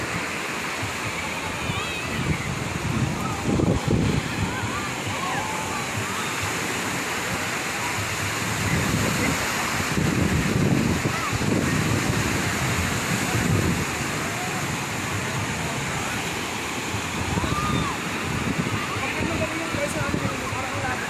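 Strong ocean surf crashes continuously at Patungan Beach in Cavite, a broad roar of breaking waves with louder surges, while voices talk faintly underneath.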